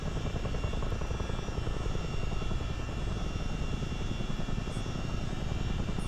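A CH-47 Chinook helicopter in low-level flight gives off a steady, dense rotor and engine roar that fills the whole clip, heard from inside at constant loudness.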